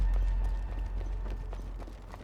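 Quick footsteps in the battle royale game Apex Legends patter in a fast, even rhythm over a deep steady rumble, at moderate volume and with no speech.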